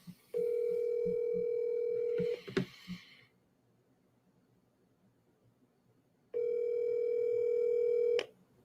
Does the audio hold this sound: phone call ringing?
yes